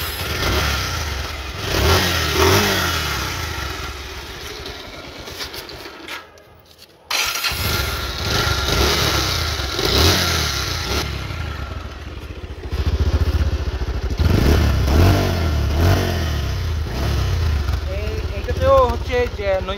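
A used Bajaj Pulsar motorcycle is started and its engine runs and revs nearby, loud and steady, with a short break and someone talking over the engine throughout.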